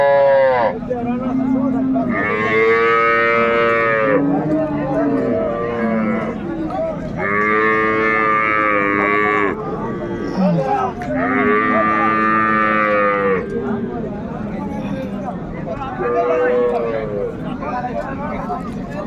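Cows and calves moo repeatedly at a cattle market, long loud lowing calls one after another, some overlapping, close by with a murmur of voices in the background.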